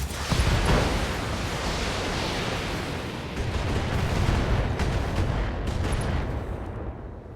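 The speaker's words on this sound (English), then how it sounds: "Firing a full salvo." A mech in the video game Battletech fires a full weapons salvo, a dense, continuous roar of overlapping blasts and explosions that stays loud for several seconds before tapering off slightly.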